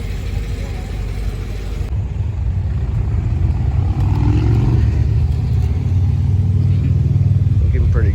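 A Chevrolet Corvette Z06 rumbles at a car meet in an Arby's parking lot, a steady low engine drone that thickens slightly partway through, with talk and crowd noise around it.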